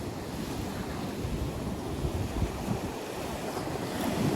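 Tide waves surge against a rocky shore at night, a steady, broad rushing wash of surf mixed with gusty wind buffeting the microphone, swelling slightly toward the end.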